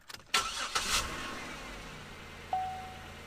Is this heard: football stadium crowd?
no